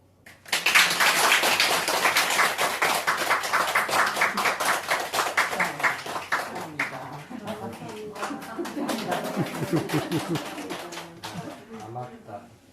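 A small gathering at a Buddhist precepts ceremony bursts into steady, rapid hand clapping for several seconds, loud and close, then the clapping thins out as voices talk over it.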